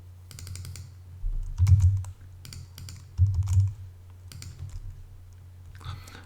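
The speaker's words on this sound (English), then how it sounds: "I'm just gonna give it a second between each one so it kind of seems like I'm typing it" Keys on a computer keyboard are struck in short, irregular bursts of clicks, with brief louder clusters and quiet gaps between them over a low background hum.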